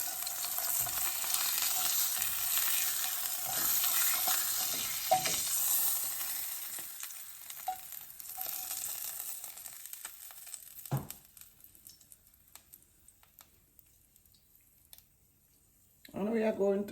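Pan-seared tuna steaks sizzle and crackle steadily in a hot pan, a broad frying hiss with stirring scrapes that fades out partway through, leaving near silence until a brief burst at the end.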